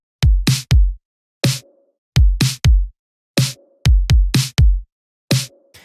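Punchy LinnDrum-style kick and snare samples played in a short pop groove, dry thumping kicks with snappy snares carrying a brief tonal ring, loud and close with no voices.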